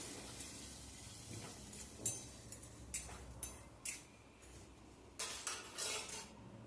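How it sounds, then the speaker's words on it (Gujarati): A spoon scraping and clinking in a pan as a vegetable curry of mogri (radish pods) is stirred and mixed, with irregular metallic taps and scrapes over a quiet background. "પછી તેને આપણે હલાવીને સારી રીતે મિક્સ કરી દઈશું બધું"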